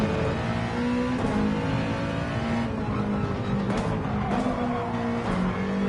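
A race car in a racing video game at the Fuji circuit, its engine droning steadily and shifting pitch as it brakes and accelerates, with faint tire squeal, loud and continuous throughout.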